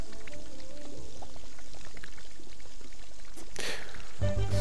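Water steadily trickling and pouring into a spreading puddle from a broken fixture in The Sims 4, a continuous splashy wash with a brighter burst of game sound near the end, no talking.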